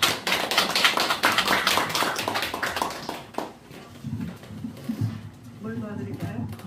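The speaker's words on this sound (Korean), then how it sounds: "우리 큰 박수로 모셔볼까요?" An audience at a literary talk concert claps in a dense burst of applause for about three seconds, then it fades into quieter shuffling and murmuring.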